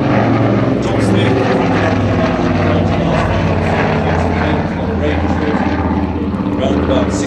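An Avro Anson with Armstrong Siddeley Cheetah 15 engines flies past at an air show, its radial propeller engines giving a loud, steady droning roar with a throbbing low pulse that holds for several seconds.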